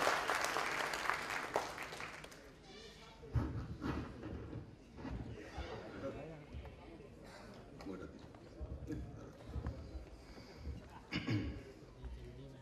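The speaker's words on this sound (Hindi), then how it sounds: "एक बार जोरदार तालियों से स्वागत करें" Audience applause welcoming actor Vivek Oberoi to the stage at a celebration of Atal Bihari Vajpayee's 90th birthday, a loud burst of clapping that fades into a lower hubbub of crowd noise and scattered claps.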